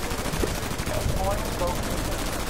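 Dense, continuous rapid gunfire from the video game Battlefield Bad Company 2 rattles steadily throughout, heavy and somewhat distant-sounding, with faint voices mixed underneath.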